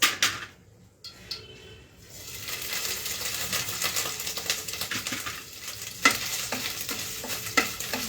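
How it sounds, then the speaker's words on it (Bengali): Paneer stirred in hot ghee for paneer halwa with the gas switched off, a low sizzle under repeated spoon scrapes and occasional sharp clinks against the pan, close and fairly quiet after a brief near-silent start. "জাস্ট একটু ঘিয়ের মধ্যে নাড়াচাড়া করতে হবে"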